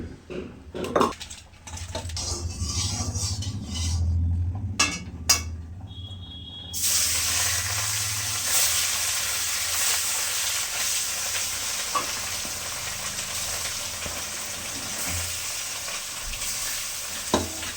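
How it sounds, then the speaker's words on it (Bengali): Pieces of local rohu fish, rubbed with salt and turmeric, fry in oil in a pan. Spatula clatter and scrapes give way to a loud, steady, hissing sizzle that carries on to the end, heard up close. "লবণ হলুদ মাখিয়ে নিয়ে মাছটা ভেজে নেবো"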